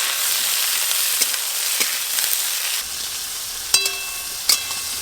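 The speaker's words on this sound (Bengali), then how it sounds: "আলু আর বেগুন আর একটু ভালো করে ভাজবো" Cut potatoes and eggplant fry together in a pan with a steady, close, hissing sizzle, broken near the end by two sharp clinks of a utensil.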